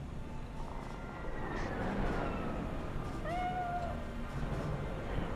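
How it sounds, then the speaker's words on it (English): A cat meows in the video game Cyberpunk 2077, a short rising call standing out over a dense, steady game ambience of back-alley city noise. "What is this? Oh, this is a cat."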